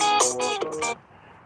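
A phone ringing with an incoming call, a bright electronic ringtone of rapid repeating chimes lasting about a second before fading into quiet room noise.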